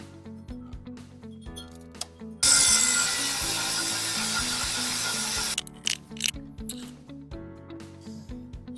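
A metal part is cut through during a build that fits a car turbo to a diesel Bullet motorcycle, making a harsh, steady grinding rasp for about three seconds over a faint background hum.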